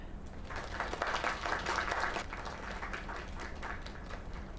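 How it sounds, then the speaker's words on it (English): Applause from a small crowd, steady clapping swelling briefly then continuing at a moderate, somewhat distant level. "Another round of applause."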